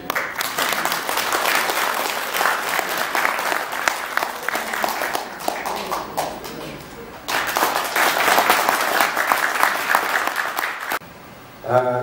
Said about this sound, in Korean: 여러분 박수로 환영드립니다